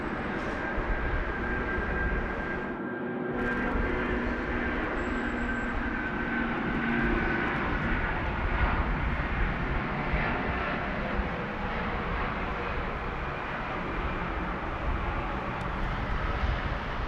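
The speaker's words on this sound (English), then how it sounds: "Philippine Airlines now. 212 off to Manila, off to Manila, rather, in the A330-300 now rolling 16 right." A Philippine Airlines Airbus A330-300 rolls for takeoff on runway 16 right at night at Sydney Airport, a steady broadband jet engine roar that holds loud and constant throughout without any pause.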